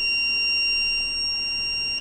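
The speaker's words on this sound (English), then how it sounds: "it will give the beep alerts" A contactless temperature detector sounds its high-temperature alert after being triggered by a hot glue gun, giving a loud, steady, continuous electronic tone for the whole two seconds.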